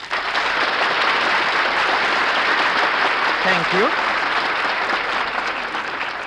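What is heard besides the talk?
studio audience applauding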